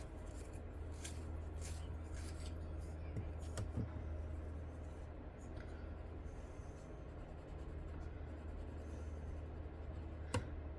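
A pencil colors in shapes on planner paper, quiet repeated scratchy strokes close to the microphone over a faint low background hum.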